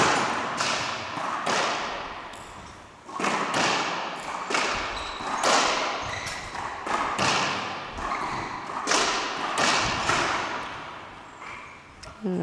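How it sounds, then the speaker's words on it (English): Squash ball striking the front and back walls during a professional women's round-of-16 match, a series of sharp thuds and cracks in a quick rally rhythm, with echoey court ambience and faint commentary-like voices underneath. "Funny bounce off the back wall."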